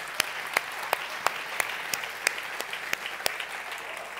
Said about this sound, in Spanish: dele el aplauso fuerte al Señor